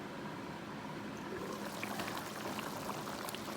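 Fish palm nut soup simmers in a covered pot, giving a soft, steady bubbling and gurgling that grows slightly livelier toward the end, faint and close.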